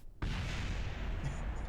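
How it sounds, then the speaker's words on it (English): A sudden explosion in the spaceflight video game Kerbal Space Program bursts in abruptly and roars on as a sustained, loud rumble without any talking. "Oh, and there's another explosion over there."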